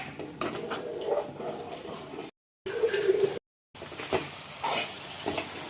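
Close, soft patter and squelching as fried ingredients are stirred together in a bowl for sajja appam, steady mixing broken by two brief silent gaps.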